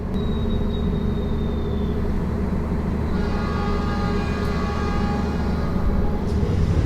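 The Tegal Bahari passenger train rolls as it departs a station, a heavy continuous low rumble of wheels and carriage. A faint whistle-like tone sounds early, then steady tonal hums join the noise partway through.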